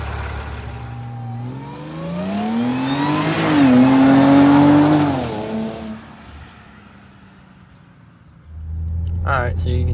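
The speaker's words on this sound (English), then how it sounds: "the exhaust sounds good, especially if you're like from behind" An Audi A6 fitted with a Magnaflow catback exhaust pulls away, its engine note climbing through the revs to a loud peak, then fading as the car moves off before a renewed low rumble returns at the end.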